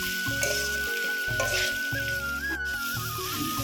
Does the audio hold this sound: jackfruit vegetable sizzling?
yes